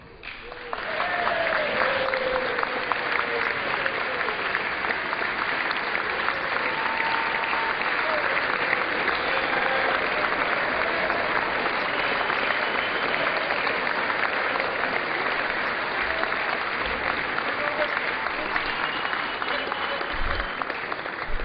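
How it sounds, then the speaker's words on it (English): Sustained, steady applause from House members in the chamber for the pages, a dense even clapping that fills the room without a break for about twenty seconds. "You're supposed to applaud after I speak."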